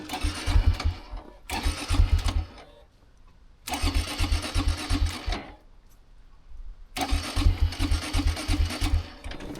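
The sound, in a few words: Honda Grom motorcycle engine running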